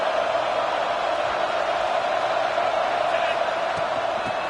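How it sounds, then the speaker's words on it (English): A big stadium crowd roars continuously at a college football game near the goal line, a dense, loud wall of cheering with no breaks, and faint commentary voices underneath. "this big crowd doing everything possible to inspire this defense down here near the goal line"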